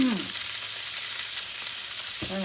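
Onions frying in a hot pan, with a steady broadband sizzle running throughout, close and fairly loud, alongside kielbasa and green peppers, with faint tonal clatter at the start and end.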